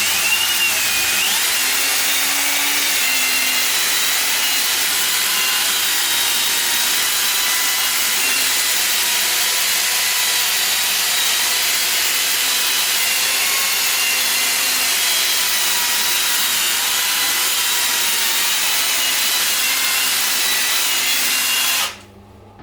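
Power brush attachment with large bristles scrubbing floor and wall tile grout, a steady loud whirring scrub that runs continuously for over twenty seconds before cutting off abruptly, with no talk over it.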